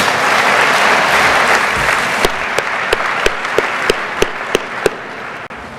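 A large crowd of coaches at a hall of fame induction banquet breaks into sustained applause for the wait staff, dense clapping filling the room, with a few sharp close claps standing out near the end.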